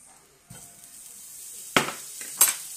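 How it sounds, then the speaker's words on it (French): Small knob of butter in a frying pan, a soft steady sizzle with a few sharp clinks of utensil against the pan, close and fairly quiet. "Là, on met un petit peu de beurre dans la poêle."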